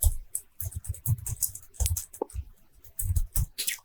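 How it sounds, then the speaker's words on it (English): Quick clicking keystrokes on a computer keyboard while entering a formula into an Excel spreadsheet, coming in uneven bursts with short pauses, close and clear with no talking. "I'm going to type in"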